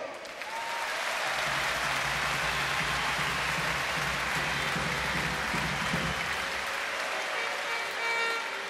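Sustained applause from an ice hockey arena crowd at a Jihlava exhibition game, a dense even roar of clapping that holds steady for several seconds without talk.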